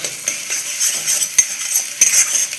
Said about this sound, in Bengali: ঈশানে চাউমিনটা বানাতেছে।